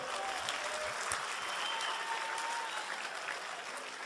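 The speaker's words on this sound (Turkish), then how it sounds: "Bir kere daha bir alkış alacağım sizden." Steady applause from an audience at a League of Legends cosplay contest final, dense clapping that holds evenly throughout without a break.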